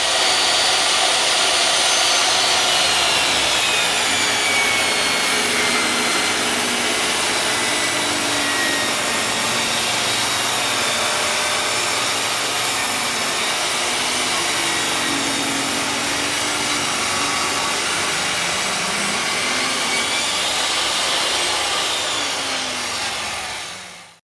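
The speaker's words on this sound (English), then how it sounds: "run this through the table saw because the Luan's hanging over just a little bit" A table saw trims the overhanging luan edges of a hollow core door, giving a loud, continuous whining roar that holds steady for over twenty seconds and then winds down at the end.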